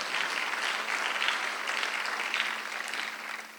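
A church congregation applauding during a Sunday worship service, steady dense clapping from many hands that fills the room and tapers slightly at the end.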